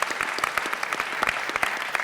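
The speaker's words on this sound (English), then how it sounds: "So one more round of applause for NFL legend Richard Seymour." An audience gives a round of applause for NFL legend Richard Seymour at a financial football event, brisk continuous clapping from a crowd throughout.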